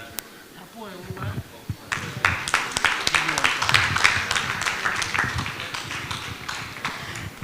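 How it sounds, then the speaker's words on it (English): Clapping from the audience at an awards ceremony in a hotel hall starts after a few seconds of quiet speech and grows into a dense, uneven burst of applause that carries on to the end. "Can we give a better clap to retired Bishop Mark Lloyd?"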